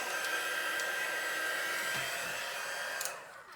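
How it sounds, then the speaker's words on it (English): A heat tool blows steadily and loudly while setting embossing powder, a continuous airy whir that holds for about three seconds before tapering off as it is switched off. "make sure it's all heat set, or else the powder will still be on there"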